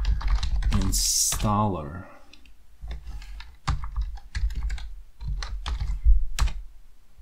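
A command is typed on a computer keyboard while installing Void Linux, with bursts of key clicks following a short spoken word at the start.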